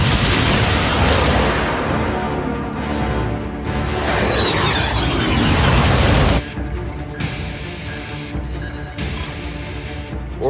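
Naval guns firing at alien ships in a Battleship film scene: a loud, dense roar of blasts and booming crashes with a rising whine, then a sudden drop to a lower rumble.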